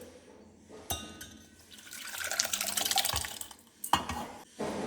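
Cooked drumstick leaf curry sloshes and pours into a metal pot, with splashing and clinking of the vessel, a few sharp knocks at the start and near the end.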